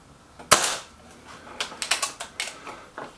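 A Kral Puncher K air rifle fires a single sharp crack, followed by a run of quick mechanical clicks and clacks from the action being worked, close and dry.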